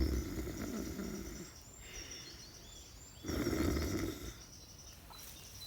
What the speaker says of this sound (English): It was the sound of giant snores.